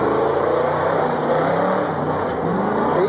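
A 1974 Ford Bronco race truck's engine runs rough with a steady, uneven gurgling drone, close and continuous, with no talk.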